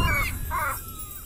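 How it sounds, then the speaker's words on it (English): A crow attacking in an indie video game gives two harsh caws in quick succession, fairly loud over a low background hum. "Or I'll get sucker punched by a crow."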